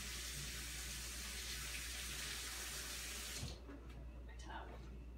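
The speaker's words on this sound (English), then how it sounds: "Wash my hands." A tap runs steadily while hands are washed under it in a home kitchen. The water rush fills the first few seconds, then cuts off and leaves faint splashes and drips, with some quiet talk.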